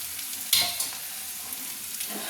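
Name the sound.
poppy seeds frying in a pan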